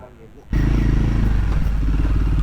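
Royal Enfield Himalayan 450 motorcycle pulling away in second gear after the clutch is released, a loud, steady engine drone close by that begins abruptly and holds even through the run.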